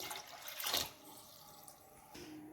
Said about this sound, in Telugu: ముందుగా ఒక గిన్నె పెట్టుకొని అందులో వాటర్ పోసుకోవాలి.